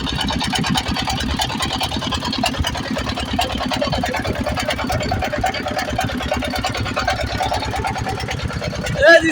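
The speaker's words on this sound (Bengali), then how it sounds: "নাবিক ভাই আমাদের নৌকা চালাচ্ছে।" A motor boat's engine chugs steadily on a big river in Bangladesh, a constant close throb running throughout with people talking over it.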